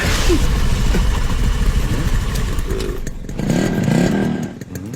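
A motorcycle engine idles close by with a steady low rumble and light mechanical clatter, continuous through the whole stretch.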